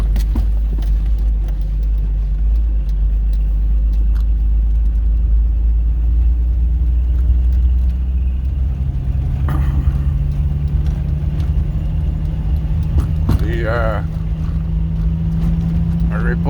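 An old bus rumbles off road through mud, its engine droning low and steady, then a deeper, louder engine note rises partway through as it pushes on.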